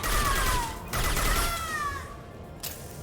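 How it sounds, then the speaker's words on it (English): A high-impact gunshot fires in the Mass Effect video game, a loud burst that rings out over a dense, sustained game soundscape with sweeping synthetic tones, and then a second sharp crack lands near the end. "Firing a high impact shot."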